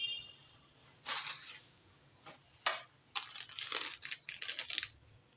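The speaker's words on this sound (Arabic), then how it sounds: "كيس من الملح." A plastic bag of salt crinkles and rustles in bursts as it is handled during pickled lemon preparation, with crisp crumpling sounds close by in a quiet room.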